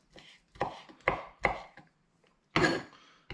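A knife chopping garlic on a cutting board, with several separate sharp knocks at an uneven pace and a heavier final chop, close up and with no talking.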